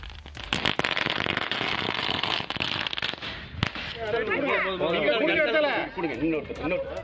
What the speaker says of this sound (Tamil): தூத்துக்குடியில் உப்பள தொழிலாளர்கள் இனிப்பு வழங்கியும் பட்டாசு வெடித்தும் கொண்டாடினர்